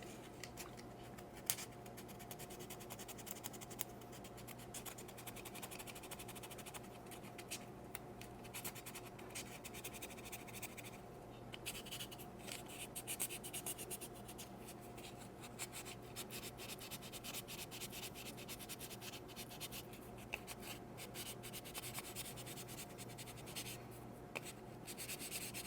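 Steady dry scratching and rubbing of fine-grit sandpaper against a small plastic Tamiya Mini 4WD part to remove the burr, continuing evenly and close up for the whole stretch with no talking.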